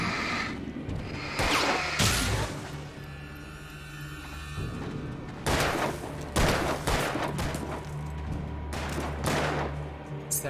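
Bursts of gunfire in the Alan Wake video game ring out in several loud volleys over a low continuous background hum, with sharp cracks clustered near the start and again midway through.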